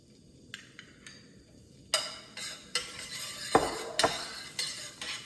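Garlic being stir-fried in a pan for Chinese egg rolls: quiet, scattered clinks and scrapes of a utensil against the pan, with a few sharper knocks and a faint sizzle.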